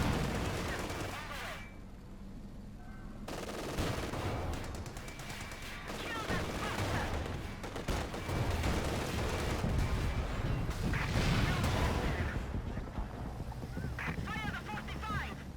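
Katyusha rocket barrage in Company of Heroes 2 combat, a rolling series of whooshing launches and explosions mixed with other battle noise, sustained and loud, with voices over it.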